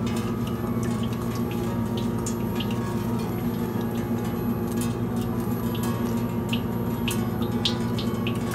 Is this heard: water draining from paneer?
yes